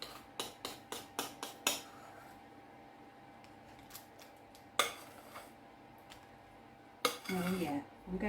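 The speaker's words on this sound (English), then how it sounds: "I'm going to scrape this bowl, so I don't want to leave anything behind" A spoon scrapes and knocks against a mixing bowl of Christmas cake batter: a quick run of rhythmic clinks, then quieter gaps broken by a few sharper taps and a final rustle, close by.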